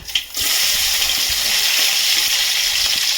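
Cumin, mustard seeds and green chillies sizzle in hot oil for uppittu, a loud, steady crackling fry that bursts in after a brief quiet start and holds evenly to the end.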